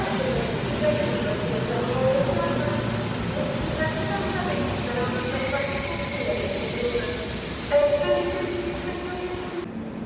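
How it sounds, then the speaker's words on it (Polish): A Polregio train arriving at a station rolls in with loud, sustained high-pitched wheel squeal over a rumbling rail hum, steady and close for several seconds. "I wjeżdża pociąg z Krakowa."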